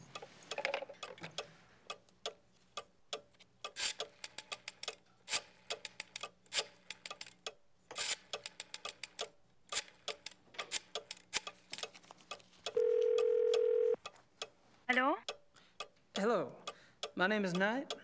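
Rotary phone dial in the adventure game Gabriel Knight, a series of quick mechanical ticking bursts as the dial spins and returns, heard amid game sounds and a steady tone, with someone talking at points.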